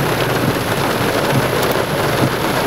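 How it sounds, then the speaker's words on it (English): Small pea-sized hail coming down during an April storm in Martin Park, a steady dense hiss and patter with no clear individual strikes, loud and continuous throughout. "We got more small pea-sized hail coming down."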